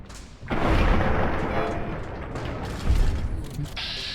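Gunfire in Fallout New Vegas, a loud weapon blast with a sustained roaring tail, then a second thump about two seconds later, heard with no talk.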